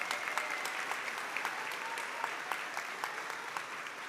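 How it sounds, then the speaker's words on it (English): An audience at a SUNY WCC spring commencement ceremony applauds the valedictorian, a steady mass of clapping with individual sharp claps standing out, moderately distant and without talk. "we recognize her with our applause"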